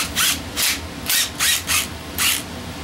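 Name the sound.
thread chaser chasing threads on engine bolts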